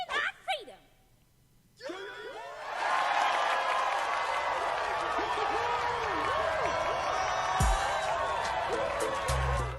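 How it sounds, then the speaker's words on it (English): A live audience breaks into cheering and applause after a short pause, a dense, sustained crowd roar with whoops, mixed with a voice speaking over it. "So, of course, everyone starts cheering."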